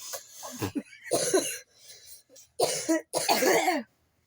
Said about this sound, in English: Now I'm turning into a coughing mess after 46 minutes of talking.